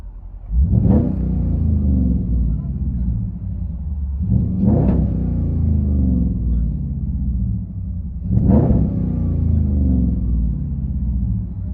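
Deep, throaty 5.7L HEMI V8 rumble of a 2017 Jeep Grand Cherokee with dual exhaust and Xlerator mufflers, heard from inside the car, three rising revs swelling and falling back to a steady low idle.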